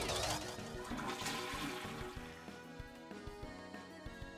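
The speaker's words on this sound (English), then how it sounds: "I don't think I've ever heard the toilet flushing sound effect from that one." A toilet flush sound effect from the video game Deltarune rushes loudly, then settles into a gurgling, trickling tail with small clicks, with no talk over it.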